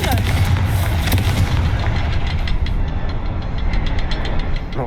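A Confringo blasting spell explodes in Hogwarts Legacy, loud booming bursts over a dense, continuous rumble, followed by a run of sharp crackling pops as the blast settles, with voices present.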